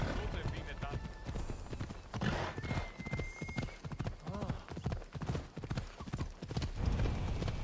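Rhythmic hoof clip-clops of a horse galloping in Assassin's Creed Odyssey, steady and close, with occasional whinnies and a voice talking over the hoofbeats.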